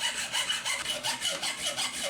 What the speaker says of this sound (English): I'm just going to cut this with the hacksaw right now.